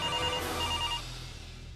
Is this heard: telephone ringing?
yes